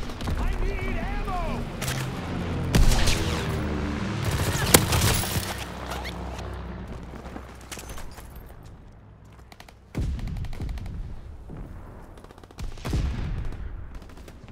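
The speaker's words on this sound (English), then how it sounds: "Anti-aircraft salvo commenced." Heavy gunfire and a booming anti-aircraft salvo in Call of Duty: WWII multiplayer, with dense bursts, blasts and crashes, plus a game announcer voice, before the firing thins and then flares again.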